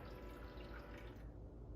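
A Magic Chef countertop ice maker in an RV fills with water, giving a steady close trickling and splashing wash that thins out near the end.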